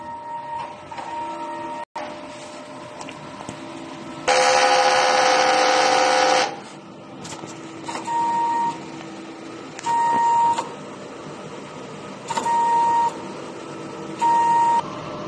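A DTF printer runs a head cleaning cycle, with a loud whirring burst, repeated short motor runs and beeping tones, close by.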